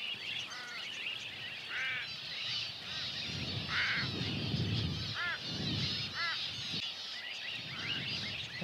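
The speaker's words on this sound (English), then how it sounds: "Crow hassling a falcon." Harsh, repeated bird calls ring out in short bursts as a crow harasses a falcon in Australia, the calls moderately near over a constant bright wash of background birdsong and insects.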